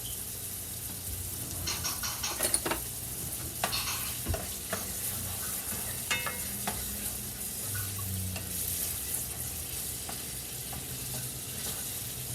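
Onions sizzle in a hot pan while a utensil stirs and scrapes them now and then, with clicks and scrapes over a constant close fry and no voices.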